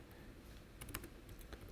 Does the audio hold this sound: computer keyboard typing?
yes